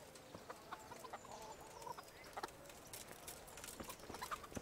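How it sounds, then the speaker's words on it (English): Chickens cluck in a medieval village in Kingdom Come: Deliverance, short scattered clucks and squawks at moderate distance over a low ambient bed, with no talking. "Better watch out, chickens."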